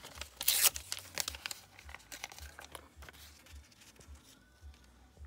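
Gummed paper tape torn by hand for a matchbox mini sewing machine craft, giving a loud ripping burst near the start, then quieter crinkly rustles and small handling taps.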